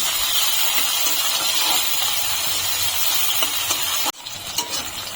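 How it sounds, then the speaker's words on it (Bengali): Eggplant pieces fry in hot oil in a wok with a loud, continuous close hiss and sizzle that cuts off abruptly near the end, leaving quieter kitchen noise. "বেগুনগুলো আমি এখন ভালো করে ভেজে নেব।"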